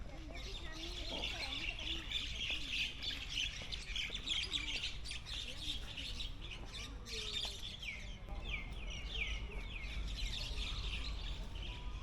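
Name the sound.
hoopoe bird calls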